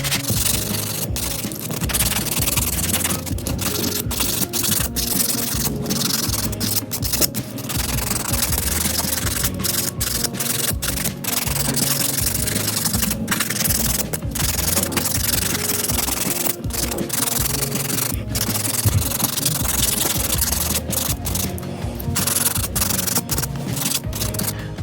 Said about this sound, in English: I'm gonna use one of my bigger buffers just because they are longer nails.